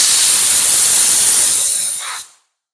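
A spray gun sprays car paint in a loud, continuous hiss held for about two seconds, then cut off abruptly to silence.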